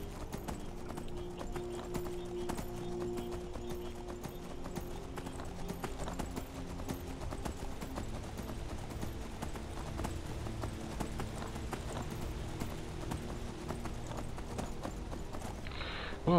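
Horse hooves clip-clop at a steady walking rhythm in the game Skyrim, continuous and moderately close over a soft ambient background, without talking.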